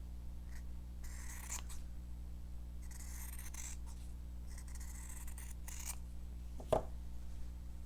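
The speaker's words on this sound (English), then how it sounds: "So I'll fold my fabric in half, create that shape, come to a point and cut it out." Scissors snip through folded fabric to cut an ornament shape for a Christmas fabric book. Several soft, close cutting strokes come in short bursts over a steady low hum, with a sharper tap near the end.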